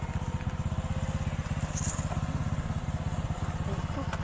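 A motorcycle engine idles nearby with a steady, rapid low pulsing that runs throughout without a break, and no voices are heard over it.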